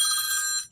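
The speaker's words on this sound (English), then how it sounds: "And apologies for the phone." A telephone rings once in a short, bright electronic trill, loud and close, cutting off abruptly after less than a second.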